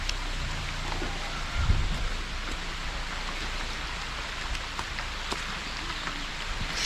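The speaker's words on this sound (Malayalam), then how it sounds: "ഭയങ്കര മഴയാണ്, കോടയുണ്ട് കണ്ടോ." Heavy rain pours steadily on surfaces near church steps in mist, a dense continuous patter with scattered louder drips and a brief low thump early on.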